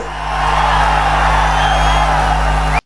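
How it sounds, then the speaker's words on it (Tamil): A huge political rally crowd in Kumarapalayam, Tamil Nadu, roaring: a dense, steady wall of cheering and shouting, loud and close, sustained without a break before cutting off abruptly. "குமராபாளையத்தில் நடைபெற்ற கூட்டத்தினுடைய ஆரவாரம் செவிய தொலைச்சுக்கிட்டு போக போகுது"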